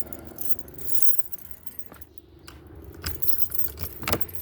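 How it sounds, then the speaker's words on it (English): A ring of keys jangles and clinks in a small mini bike workshop, close and in irregular bursts, with a louder rattle near the end. "Let me get the keys out."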